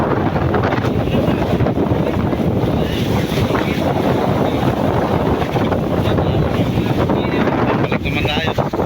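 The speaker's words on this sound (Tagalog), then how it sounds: "Yun, malakas na po ang hangin mga idol." Strong wind roars steadily across the microphone aboard a fishing boat out at sea while trolling for marlin, a loud continuous rush with water noise beneath and no pauses.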